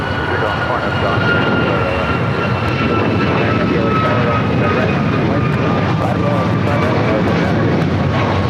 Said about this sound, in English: Aircraft coming in from Newark, flight 1306